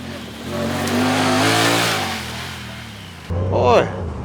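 A Honda Talon side-by-side on a wooded trail revs its engine, pitch climbing then dropping as it shifts gears, close and loud, with a brief burst of speech near the end.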